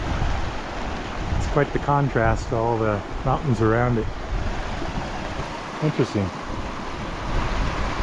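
A white-water creek in the Colorado Rockies rushes beside a small bridge, giving a steady broadband wash that runs throughout, with someone talking briefly over it.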